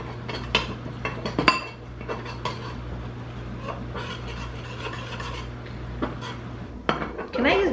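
Utensil stirring food in a dish while making a hashbrown casserole, a run of soft scraping and light clinks against the dish under a steady low hum, with brief louder knocks.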